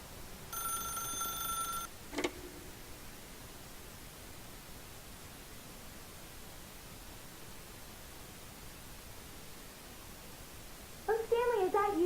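Telephone ringing in The Stanley Parable video game, a single electronic ring burst near the start followed by a click, then a long quiet hiss before a voice begins at the end.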